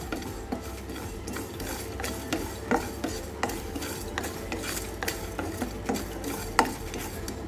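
Two spoonfuls of mustard seeds heat in a hot kadhai for lime pickle, giving a soft, continuous scraping and stirring texture with scattered light pops and clicks, fairly quiet and without talk.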